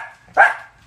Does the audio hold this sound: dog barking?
yes